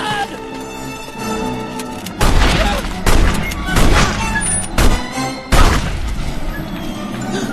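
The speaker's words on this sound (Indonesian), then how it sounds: "Tapi tiba-tiba si pemilik rumah bangun dan langsung menembaki mereka dengan shotgun" Shotgun blasts in the animated film Ratatouille: several loud, sharp booms spaced a second or so apart, each with a crashing tail, over a busy film soundtrack.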